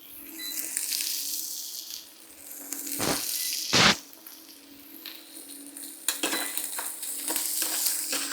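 Halved garlic cloves fry in a pan during a steak cooking class, a steady sizzle running throughout with a few sharp clatters and scrapes, no talking.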